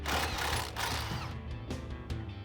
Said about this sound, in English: grab a 16mm deep socket, and we're gonna remove the factory nut off of our sway bar end link